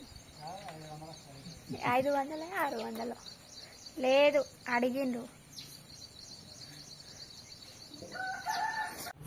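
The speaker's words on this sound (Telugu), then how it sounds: "ఆ కోడి పుంజు" A rooster offered for sale at a village shop crows in a couple of strained, rising calls close by, mixed in with people talking about its price over a steady background hiss.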